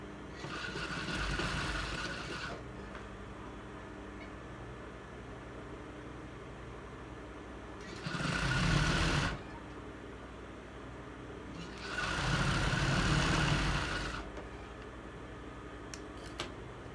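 An electric sewing machine stitches a blouse, its motor whirring in three separate runs of one to two seconds, with quiet pauses between while the fabric is repositioned. The sound is close, moderately loud, and there is no talking.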